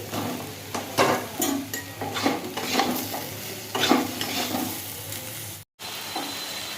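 Spice paste is stirred and fried in a pan, with repeated scraping strokes of a utensil over a soft, steady sizzle, close by. A brief silent gap comes near the end.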